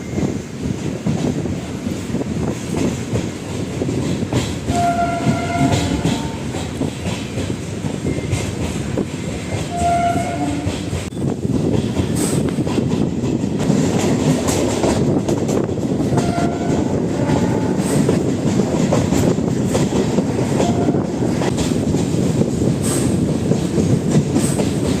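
A Palakkad Town–Erode MEMU unreserved train runs steadily near the Walayar border section, with a continuous loud rumble and rhythmic clickety-clack of wheels over rail joints, buffeted by wind noise, and a few horn tones partway through.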